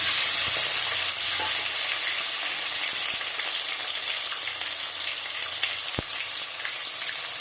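Tomato added to hot mustard oil tempered with panch phoron for khichuri, sizzling and frying steadily and loudly throughout, with a few sharp clinks of a spoon against the pan.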